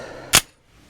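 A single sharp gunshot from a firearm designed in 1935, fired at a shooting competition: one loud, close crack with a quick decay, alone, with no voices.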